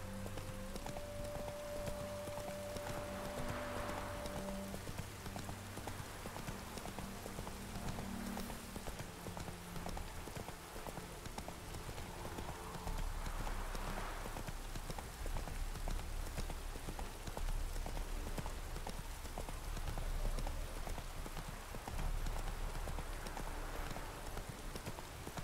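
Hooves of the horse Roach clip-clop at a run in The Witcher 3 game, a steady rhythmic patter over rain-like ambience and low music, moderately loud throughout with no talk.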